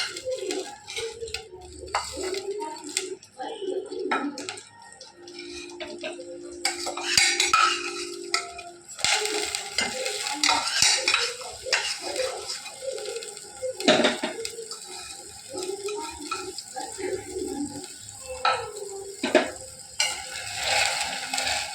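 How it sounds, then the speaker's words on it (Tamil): Vermicelli added to boiling water in a pot and stirred, with clinks of a spoon against the metal pot, bubbling water and clattering over about twenty seconds, birds faint in the background. "நல்லா இப்போ தண்ணி கொதிச்சு வந்துடுச்சு. இப்போ சேமியா சேர்க்கணும்."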